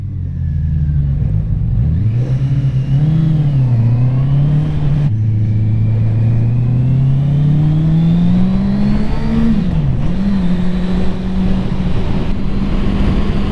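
An A2-restricted Honda CB650R motorcycle accelerates hard, its engine note rising and falling through gear changes with a loud, close onboard drone and strong wind rush, with no talking.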